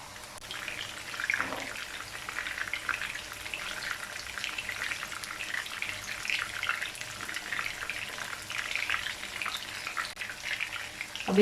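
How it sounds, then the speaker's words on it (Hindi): Beef seekh kababs cook gently on low heat, giving a soft, steady hiss and faint crackle that holds evenly throughout, quiet and close with no voices. "अब बिल्कुल हल्की आंच पर इसे पकाएंगे।"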